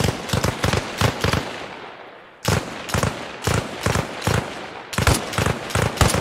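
Light machine gun fire in Arma Reforger comes in loud, rapid bursts of several rounds each, separated by short pauses, with one longer gap before the firing resumes.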